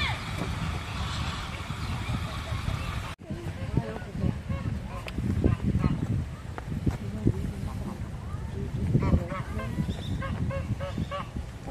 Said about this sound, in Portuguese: Pato. E aqui que alaga, né?